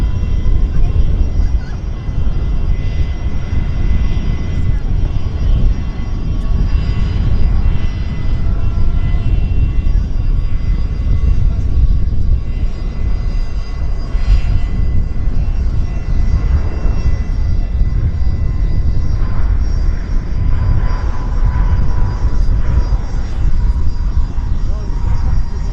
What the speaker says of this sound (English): Westjet's turning on to the active.